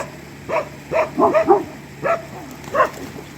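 Several dogs barking outdoors at a casual gathering, a handful of short, fairly close barks and yips in an uneven rhythm with brief gaps.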